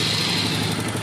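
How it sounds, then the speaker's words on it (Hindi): A Star City Plus 110 motorcycle engine idles steadily just after starting, with a close, even putter and a timing chain fault making a noise. "ये बाइक मेरा बिल्कुल स्टार्ट है।"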